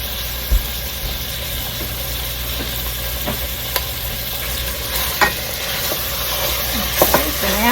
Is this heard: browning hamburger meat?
yes